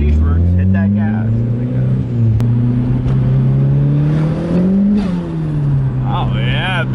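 A Nissan Silvia making about 500 hp, with a new fuel system and the hood off, revs loudly nearby. The engine note climbs and falls through several surging pulls, and voices can be heard under the engine.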